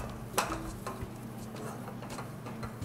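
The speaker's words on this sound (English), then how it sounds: "Start to stir the dough together." Choux dough for chocolate eclairs is stirred in a pot, soft scraping and thick pasty squelches, with a few sharper clicks of the spoon against the pot.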